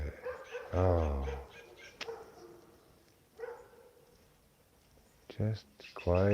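A dog barks and yips in short harmonic bursts near the start and again at the end, mixed with a voice talking over it indoors.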